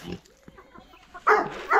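A pig grunts and squeals at a farm feeding area, with a few soft snorts followed by two loud, harsh bursts close to the listener.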